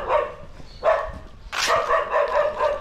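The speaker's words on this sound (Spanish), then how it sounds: "Solo los ruidos de los perros se escuchan." Dogs bark in a quiet residential neighbourhood in Colonia Santa Lucía, Ilopango, El Salvador, several loud, close barks and yips in quick succession.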